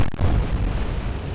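Heavy battleship guns fire in the naval combat game Atlantic Fleet, with one deep, loud boom at the start that rumbles on as a dense low roar through the rest of the moment, with no voices.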